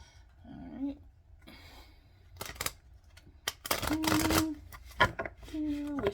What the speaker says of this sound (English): Wish I was a better person to shuffle